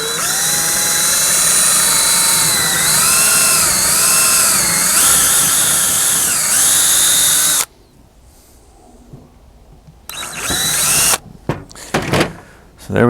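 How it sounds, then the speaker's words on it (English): A power drill whines loudly and steadily for several seconds, its pitch dipping as it bites through a wooden fire steel handle, then stops; a few knocks and clatters follow. "just try to drill this hole straight through."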